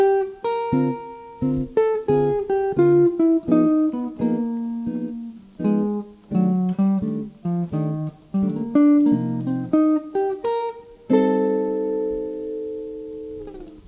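A clean electric guitar plays a quick bebop run of single notes with syncopated phrasing, ending on a sustained chord, with no voices.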